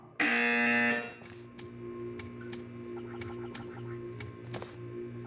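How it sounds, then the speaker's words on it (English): A loud, harsh buzzer from the video game Portal 2 blares for about a second, then gives way to a quieter humming background with a series of sharp clicks and taps. "You will hear a buzzer."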